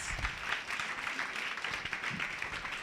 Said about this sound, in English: Can we please give the panelists a round of applause?